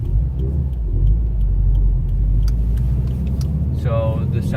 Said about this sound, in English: So the sounds of the exhaust are coming in from the